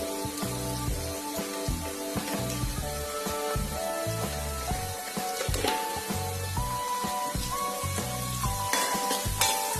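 Sliced onions with salt sizzle and fry in a pan for an idli snack, a close, continuous crackling hiss with occasional stirring scrapes and no talk.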